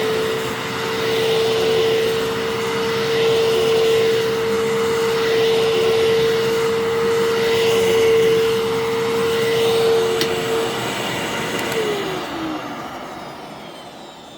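A vacuum cleaner with a clogged cyclone whines on a steady high-pitched motor tone for a brief run, then winds down as it is switched off, fairly loud and alone.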